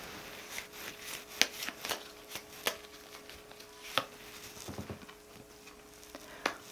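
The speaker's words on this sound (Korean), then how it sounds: "제가 조언 카드 한 장 뽑아 보겠습니다." Tarot cards are shuffled and one card is drawn. There is a series of soft, dry taps and card rustles, scattered and irregular, close but quiet, with no speech.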